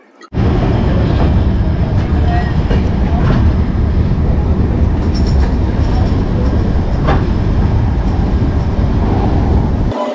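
Kumbh Express passenger train arriving at Asansol Junction, a loud, steady rumble of wheels on rails with faint clickety-clack, running continuously close up throughout.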